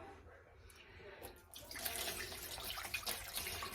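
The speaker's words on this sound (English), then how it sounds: "take white vinegar, and you want to cover it 2/3 with white vinegar" White vinegar is poured into a pot over a ham. A soft trickle builds after a quiet start into a steady, close splashing pour.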